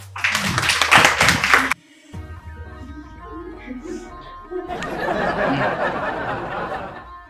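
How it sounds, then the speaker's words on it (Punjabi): Clapping for a girl at a Punjab institute, a short burst of close hand claps followed by a quieter stretch and then a broader round of applause from a group, with talk between. "ਸੋ ਲਾਓ ਵੀ ਕੁੜੀ ਲਈ ਤਾੜੀਆਂ"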